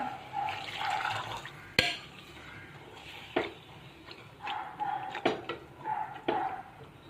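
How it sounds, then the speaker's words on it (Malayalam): Water splashes and trickles into a pot of green peas in uneven bursts, with a few sharp clinks of metal mixed in, close by and fairly quiet. "ഗ്രീൻ പീസ് വേകാൻ ആവശ്യമായ വെള്ളം ചേർത്ത് കൊടുക്കാം"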